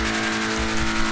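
Engine exhaust of a VW Beetle rat rod, a custom BF Weevil build in a driving video game, maxed engine and aftermarket exhaust, rumbling steadily with a low, throaty drone and a slight rev swell near the end, close and continuous without talk.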